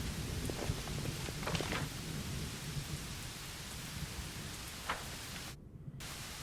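Steady downpour in the fantasy role-playing game Pathfinder: Wrath of the Righteous, a continuous hiss of rain with a few faint pattering drops and a brief dip near the end, no voices.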